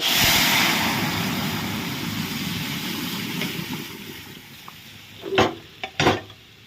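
Spice tempering for dal fries in a pan with a broad, steady sizzle that slowly fades, followed by a few short, louder bursts close by near the end.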